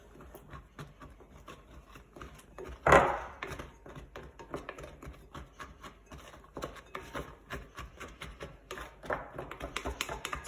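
Oobleck slime of cornstarch and water being mixed by hand in a bowl, soft irregular rubbing and tapping with one louder knock early on, close and fairly quiet throughout.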